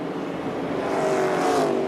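A Joe Gibbs Toyota NASCAR stock car races past under the white flag, its engine note rising to a loud, steady roar as it draws close.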